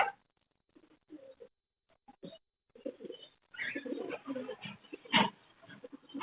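Fancy pigeons at a bird market give soft, low coos in short, scattered bursts amid faint shuffling, close by but quiet, with brief quiet gaps.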